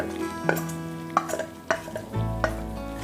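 Sautéed vegetables are stirred into creamy white sauce for pasta in a pan, with a few scattered scrapes and clinks of a spoon against cookware and a low hum beneath.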